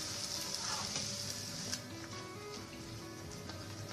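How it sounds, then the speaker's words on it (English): Malpuas frying in ghee on a medium flame for a Ganesh Chaturthi sweet, a steady close crackling sizzle with scattered pops throughout and no talking. "make sure you're cooking your malpuas on medium flame basically"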